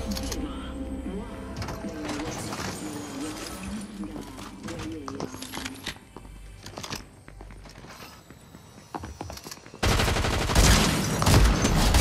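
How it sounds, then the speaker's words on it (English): Burst-fire rifle shots in Fortnite ring out as rapid rattling volleys over busy game sound and music, growing louder and denser toward the end while a voice talks. "And we've got the burst fire."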